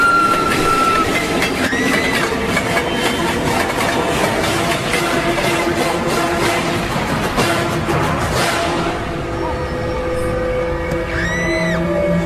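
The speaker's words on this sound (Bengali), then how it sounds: "তারপর মাটি কাঁপিয়ে ট্রেনটা আমার পাশ দিয়ে এগিয়ে যেতে থাকলো" A train passes close at night with loud, continuous rumbling and rhythmic clickety-clack of wheels on rails, fading a little toward the end, with a faint squeal of wheels.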